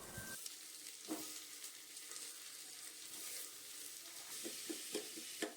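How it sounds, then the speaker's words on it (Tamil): Tomatoes with ginger, garlic and cashews sauté in a pan, giving a soft, steady sizzle broken by scraping stirs. Every so often a spatula knocks against the pan. "நல்லா அந்த தக்காளிலாம் வந்து நல்லா வணங்குற மாதிரி வணக்கி எடுத்து வச்சுக்கோங்க ஓரமாக"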